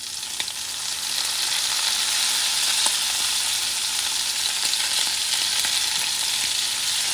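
Shrimp in green mojo sizzle and fry in a pan, a loud, steady hiss with small crackles and pops all the way through, no voices over it.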